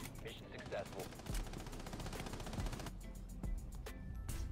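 Rapid automatic gunfire crackles in a video game firefight, bursts of shots and impacts overlapping, with a voice talking over the action.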